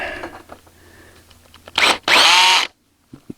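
A power drill whirs in two loud bursts driving a screw into a greenhouse frame, a short one and then a longer sustained run, after quiet handling noises, ending abruptly.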